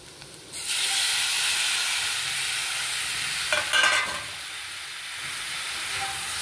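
Tomatoes added to sautéed onions in a hot pan, heard as a steady, loud sizzle and hiss with a brief burst of stirring partway through.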